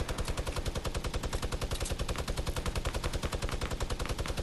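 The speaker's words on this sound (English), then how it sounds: "Trout actually just lays down minigun fire on their base." Minigun fire in the video game Fortnite, a continuous rapid-fire stream of dense, evenly spaced shots that runs unbroken and loud throughout, with no talk.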